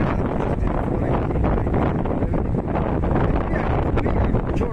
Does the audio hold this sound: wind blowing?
yes